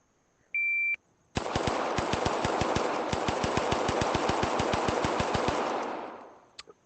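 A single beep sounds, then rapid sustained gunfire from a shooting game in ACE VR rattles off as a long fast burst of evenly spaced shots for about four seconds, tapering off, followed by one last short click.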